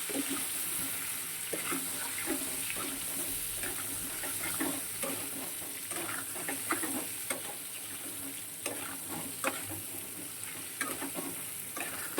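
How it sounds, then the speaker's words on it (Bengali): Pointed gourd fries in a pan, giving a steady, close sizzle with intermittent scraping stirs and clatters, and no talking. "পটলটা বেশ লাল লাল করে ভাজবো, ভেজে তুলে নেব।"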